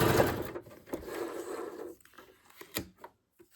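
A sewing machine stitches down the center of a Christmas belly band, a whirring run of stitching for about two seconds followed by a few short clicks and bursts as it stops.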